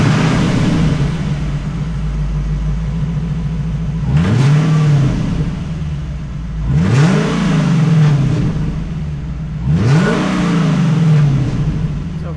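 A Lexus LS460 V8 with rotted mufflers idles with a deep steady rumble, then revs three times in evenly spaced loud blips that rise and fall back to idle, heard close with no talking.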